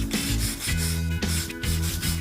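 Rubbing and scrubbing on joint surfaces to clean them before polysulphide sealant goes on, a steady close-up abrasive rasping in repeated strokes with brief pauses between passes.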